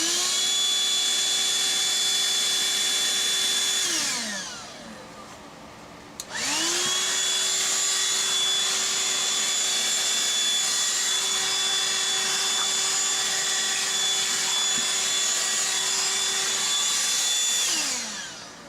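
A Black & Decker Dustbuster CHV1410L handheld vacuum whines steadily at close range, spins down partway, then restarts and runs again at full pitch before winding down at the end.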